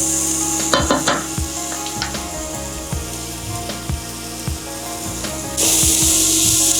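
Paneer cubes and vegetables fry in a hot pan for stir-fried rice, with a steady close sizzle, scattered scraping and stirring clicks, and a louder burst of hiss near the end.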